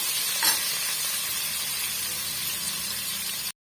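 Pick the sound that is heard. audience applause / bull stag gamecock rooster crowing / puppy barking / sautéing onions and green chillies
sautéing onions and green chillies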